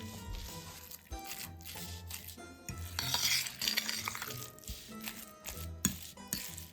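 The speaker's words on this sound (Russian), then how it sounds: "Все это хорошо перемешиваем." A spoon stirs salted cottage cheese filling with egg yolks for vareniki in a bowl, giving continuous close scraping and soft clinks against the dish, with no talking.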